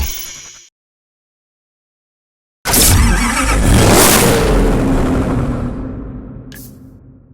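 Porsche 911 GT2 from the racing game Need for Speed Hot Pursuit, its engine snarling into a loud, sustained rev after a brief opening burst and a pause, then slowly fading out.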